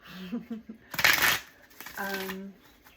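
Tarot cards being shuffled by hand in two quick riffling bursts, close and crisp, between stretches of a person talking.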